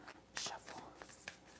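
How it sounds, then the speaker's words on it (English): Tarot cards shuffled close up in a quiet room, a few quick papery riffles and soft flicks in short bursts, intimate and faint. "Just gonna shuffle"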